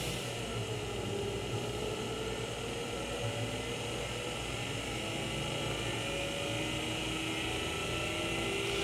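A Tesla Model S drive unit motor spins up toward 5,000 RPM, giving a faint, steady high whine over a broad hiss of noise that runs unbroken for nearly nine seconds, with no voices.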